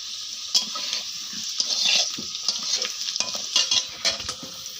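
Potatoes fry in a pan for chicken curry, a soft, fairly quiet sizzle dotted with scraping stirs, clinks of a utensil and brief watery splashes, with no one speaking.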